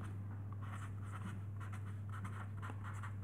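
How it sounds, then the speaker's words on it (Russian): A red felt-tip marker is drawing on a surface, giving soft, close scratchy strokes in a steady run. The strokes sit over a constant low electrical hum and there is no talking. "Рисую красным, потому что нету желтого фломастера"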